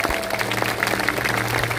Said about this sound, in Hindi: सभी लोग दोनों हाथ उठा करके ताली बजाकर धन्यवाद दें।